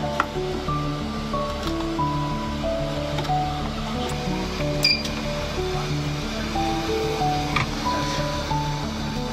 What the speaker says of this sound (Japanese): 採取した血液は特殊な容器に移され遠心分離機にかけられます